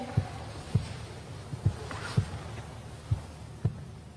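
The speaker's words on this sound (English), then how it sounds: "It is like a heartbeat." Low, muffled thumps recur in a slow, fairly steady rhythm like a heartbeat, about seven beats over a soft background hum in a chapel and mortuary during a Halloween ghost-hunting vigil.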